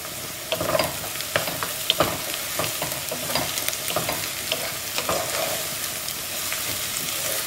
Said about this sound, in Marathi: कांदा न्हू लाइट गोल्डन ब्राउन जावसर आमी सॉटे करूया.